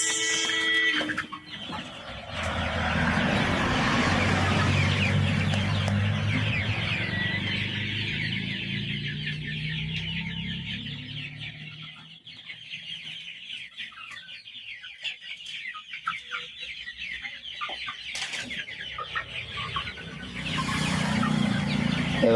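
Broiler poultry chickens on a farm clucking and pecking at a weighing scale: soft repeated clucks and chatter in a crowded flock, moderately near, with scattered tapping sounds and a quieter stretch midway.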